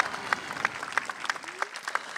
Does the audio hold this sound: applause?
yes